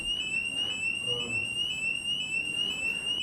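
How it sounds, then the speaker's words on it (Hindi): Fire alarm in a school building ringing with a continuous high piercing electronic tone, loud and steady throughout with no talk. "ध्यान दे, फायर अलार्म।"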